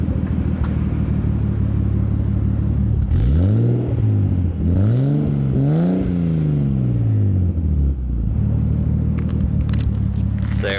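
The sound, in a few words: Nissan Cefiro A31 engine revving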